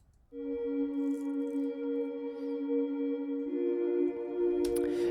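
The Omnisphere Hollow Innocence synth pad swells in and holds a smooth, sustained chord, quiet and airy, with a slight change in harmony near the end and no voices.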